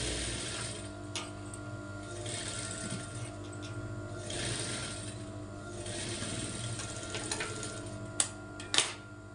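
A sewing machine stitching along the edge of a blouse neck piece, a steady low mechanical whir with faint ticking, ending in a couple of sharper clacks; no voices.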